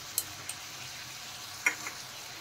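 Spices frying with cashew and raisin paste for a duck egg curry: a continuous soft sizzle with a couple of sharp clicks of a spoon stirring the pan.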